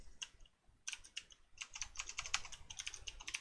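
Quiet bursts of keystrokes on a computer keyboard in Adobe Illustrator, typed in short irregular clusters with a brief pause and then a quicker run of clicks, close and soft.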